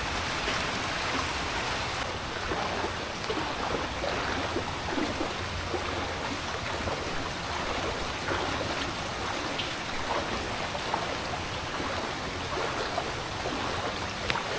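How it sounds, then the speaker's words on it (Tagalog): Steady, heavy rain pours without a break over floodwater in Laguna, Philippines, a dense hiss of water splashing onto water, loud and unchanging throughout. "Walang tila yung ulan eh, tuloy-tuloy eh."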